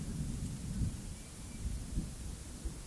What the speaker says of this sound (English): And I guess I have a storm coming in.